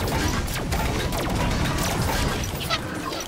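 A grenade is thrown during combat in the Halo 5 video game, and the throw and blast are buried in a dense, loud wash of crashing, clattering battle noise that runs without a break.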